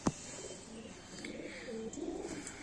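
Kaldume and kalpare pigeons in a Bareilly loft give soft, low rolling coos, several overlapping phrases close by, after a sharp brief knock at the start.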